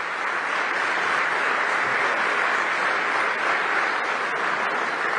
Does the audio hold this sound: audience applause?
yes